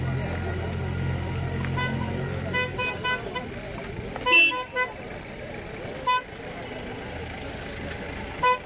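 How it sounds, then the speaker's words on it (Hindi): Vehicles arrive at a busy bullock market, engines rumbling under crowd chatter with several short horn toots scattered throughout. "अभी मार्केट जस्ट स्टार्ट हुआ है, आप देख सकते हो गाड़ियाँ भर भर के आ रही है"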